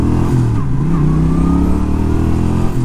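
A small 49cc touring motorcycle engine with full fairings idles and runs steadily up close, a continuous low throbbing hum with slight shifts in pitch throughout.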